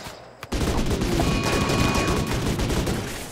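Colonists in RimWorld open fire with guns, a loud, rapid fusillade of overlapping gunshots that bursts in suddenly and keeps rattling without pause, with no one talking over it.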